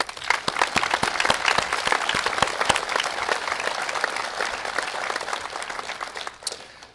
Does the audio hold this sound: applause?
yes